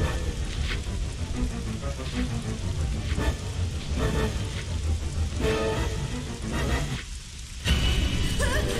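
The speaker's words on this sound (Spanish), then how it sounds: "está lloviendo" Rain falls in the video game Resident Evil: Code Veronica, a loud steady downpour hiss with bursts of crashing noise and a brief dip in level near the end, with no talk.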